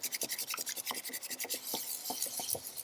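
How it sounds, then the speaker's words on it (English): Coconut matcha whisked briskly in a circular motion, producing quick, close, rhythmic scratchy strokes that repeat several times per second. "you just keep whisking it in a circular or W motion, and we're aiming for a bubbly top"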